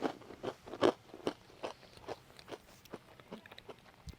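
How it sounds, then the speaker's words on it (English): Crunchy chewing of food from a Russian military ration, close rhythmic bites and mastication with soft scraping between them. "That is Mexican style Russian MRE eating."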